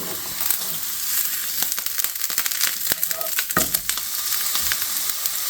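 T-bone steak sizzles and crackles loudly in a super hot, oily pan, a dense steady frying hiss with sharp pops and spatters throughout, no talking.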